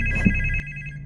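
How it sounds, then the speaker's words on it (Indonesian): A telephone in a film rings with a loud, steady electronic tone over a low hum, then cuts off about halfway through. "telepon mulai berdering."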